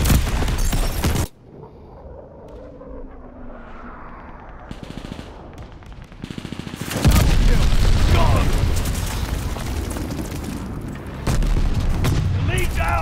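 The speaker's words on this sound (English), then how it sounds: "Friendly bombing run on the way." Bombing run explosions in the Call of Duty Vanguard multiplayer shooter crash in as loud, dense booms and rolling gunfire, surging in two heavy bursts after a quieter stretch of game sound.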